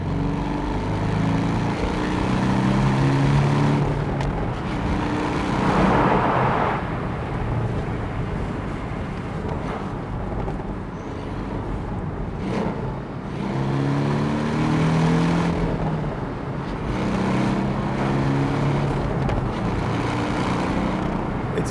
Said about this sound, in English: the exquisite sound that you get from the exhaust system on these